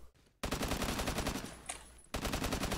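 Rapid automatic fire from a Type 58 rifle in the shooter game Phantom Forces, loud dense bursts of shots in quick succession, broken by a short pause near the start and a slight lull before the firing picks up again.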